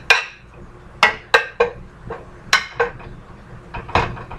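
A spoon scrapes and clinks against a pan while bacon is pushed around for southern collard greens, giving sharp metallic taps in an irregular rhythm, close and clear with no talking.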